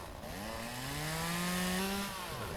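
A chainsaw in the logging game Lumberjack's Dynasty revving steadily as it cuts into a tree, its buzzing whine rising in pitch and holding near and loud for about two seconds before easing off.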